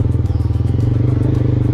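Motorcycle climbing a broken, bumpy road at the Sitakunda eco-park in Bangladesh, its engine a steady, close, loud drone with rattles and clatter from the rough surface.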